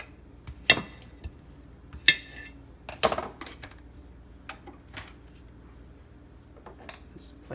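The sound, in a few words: slicing potatoes for baked seafood boil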